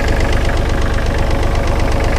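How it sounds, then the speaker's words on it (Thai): A Kubota L3408 tractor engine runs close by, a loud steady diesel clatter with a rapid, even knocking rhythm and constant vibration throughout. "มาดูระบบ ของเครื่องยนต์นะครับว่าหลวมไหมนะครับ"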